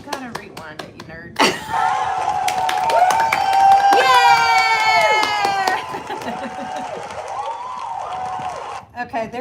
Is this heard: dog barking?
no